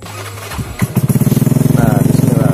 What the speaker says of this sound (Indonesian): Bismillah, biar kita nge starter lagi.